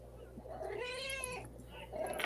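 A house cat lets out one close, rising-and-falling meow over a low steady hum, with faint room noise around it.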